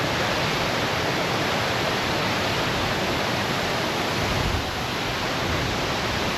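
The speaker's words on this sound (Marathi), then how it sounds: "त्या वचका धबधब्याजवळ तुम्ही बघतच आहात" Savatsada waterfall near Chiplun roaring as a dense, unbroken wash of falling water, loud and close, steady throughout without any voices.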